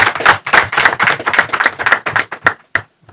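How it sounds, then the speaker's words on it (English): At a press conference in Rwanda, a small group claps in an even, rhythmic beat of crisp, close claps that slows and trails off into a few last isolated claps. "A round of applause."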